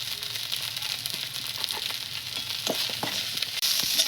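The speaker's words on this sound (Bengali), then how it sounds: "মশলাটা ভাজা হয়ে গেছে" Onion, ginger and garlic masala with turmeric powder frying in a pan, a continuous close sizzle with a few stirring scrapes and taps, no voices.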